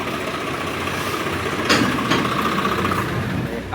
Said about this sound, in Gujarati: ટ્રેક્ટર આવીને ઊભું થઈ ગયું છે કાંટા પર